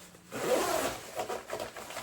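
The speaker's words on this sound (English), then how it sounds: "very easy to zip up, zip down" A side pocket zipper on an Alpkit waterproof jacket is pulled open and closed, giving a soft, close, continuous rasping run with a few uneven strokes and no talk.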